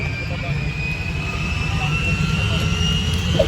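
A UH-1H helicopter flies at the Quad Cities Airshow. A loud, steady engine and rotor roar from inside the cabin fills the whole stretch, and voices can be heard over it.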